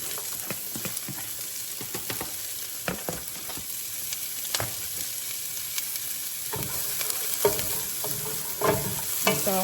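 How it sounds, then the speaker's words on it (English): Onions sautéing in leftover bacon grease in a pan, a steady close sizzle with repeated scraping and stirring clatters throughout and no talk. "Saute them."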